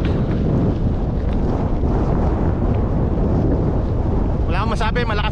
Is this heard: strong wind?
yes